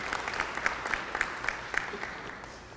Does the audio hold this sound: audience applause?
yes